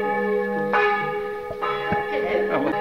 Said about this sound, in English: in the darkness I heard the church bell ringing